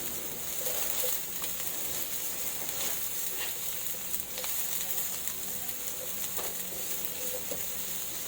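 Garlic and onion sautéing in a pan for chicken and string bean adobo, a steady close sizzle with crackling pops and occasional stirring scrapes, no talk.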